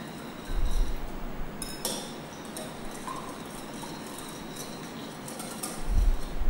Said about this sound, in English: Take the handy dandy whisk again and whisk it so it's properly mixed.